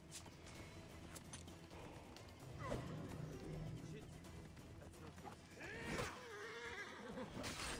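A horse whinnies loudly amid hoofbeats in Assassin's Creed Origins, on a busy road in the game, with someone talking over the game sounds.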